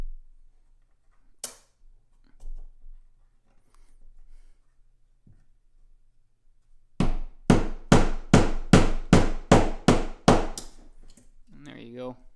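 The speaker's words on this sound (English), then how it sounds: "You'll have a lot easier time hammering these into place." A run of about ten sharp, evenly spaced rubber mallet blows strikes in quick rhythm after a quiet stretch with a few soft knocks, ending with a brief voice.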